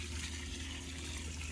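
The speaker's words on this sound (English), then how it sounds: "what I'm doing now is watering them" Water gushes steadily from a hose into potted mango trees in a Florida garden, a constant close splashing wash with no pauses and no talking.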